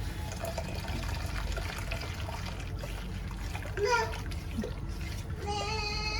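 Jaggery syrup poured into a snack mix, a soft liquid trickle and splash under steady talking, with a voice chiming in near the end.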